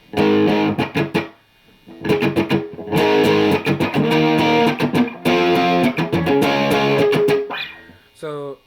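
Distorted electric guitar chords strummed in bursts, with sharp percussive scratchy strokes between sustained chord hits, loud and close, then a short tuning-like slide at the end.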